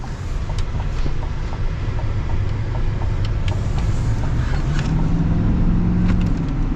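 A Duramax diesel pickup truck accelerates fast, a loud continuous rumble with road and wind roar that climbs in pitch toward the end, heard without talk.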